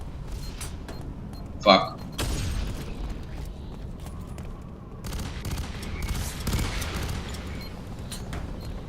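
Gunfire and grenade blasts from the shooter video game F.E.A.R. 3 rattle steadily beneath gamers talking and swearing, with one sharper burst standing out early on against a continuous layer of combat noise.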